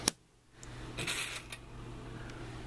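Gold coin tokens clinking onto a card in a Talisman board game, a sharp metallic tap followed by a small cluster of jingling coin sounds up close, no talk.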